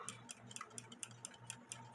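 A Lux Happy Days clock ticks steadily at close range, with crisp, evenly spaced ticks and faint alternating tock tones in a quiet room.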